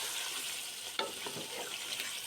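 Fried chicken, browned earlier with salt, sizzles steadily in frying masala for chicken biryani as it is stirred, with a sharp clink near the start and soft scraping pulses over the constant hiss.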